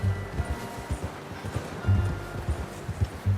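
A horse's hooves clip-clop in Red Dead Redemption 2, a steady run of low, soft thuds at mid distance over faint rustling, with no voices.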